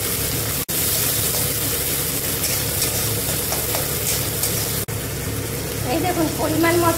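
Onion, green chili and garlic sizzle steadily in hot oil with black cumin already popping, a continuous close frying hiss with a brief stir and a couple of sharp gaps, with no talk.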